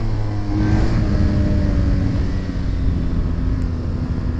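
BMW car, a manual driven without the clutch, accelerating in second gear with a steady, loud engine drone and road rumble, heard from inside the car with no talking.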